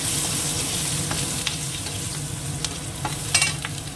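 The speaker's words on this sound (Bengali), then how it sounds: "ভাজা হয়ে গেছে দিয়ে দিচ্ছি চেরা কাঁচা লঙ্কা" Slit green chillies drop into a pan of frying coconut and turmeric, crackling in a continuous close sizzle broken by scattered scraping taps of a stirring spoon.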